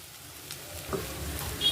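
Idli upma being stirred in a pan with onions, salt, turmeric and idli powder, giving soft sizzling and frying crackle with faint scraping of the spoon, quiet and steady throughout.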